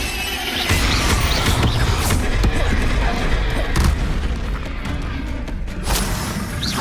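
Confringo and Bombarda spell blasts in Hogwarts Legacy, a dense, loud run of booming, crashing impacts with crackling debris, layered and continuous across the whole stretch with no voices.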